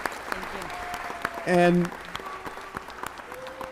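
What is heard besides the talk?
applause in city council chambers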